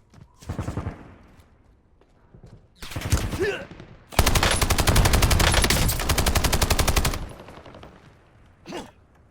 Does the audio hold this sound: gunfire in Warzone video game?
yes